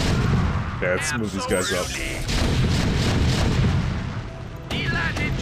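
Siege tanks in StarCraft fire repeatedly, their heavy artillery booms mixed with sharp gunfire bursts over a constant battle din, while someone talks briefly over the action.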